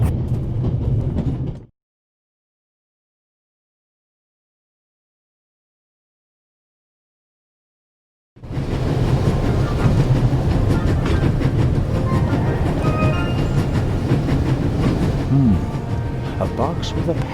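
Train ride ambience from the video game The Raven Remastered: a steady rumble and rattle of rolling railroad cars, broken by a long stretch of silence before the continuous clatter resumes.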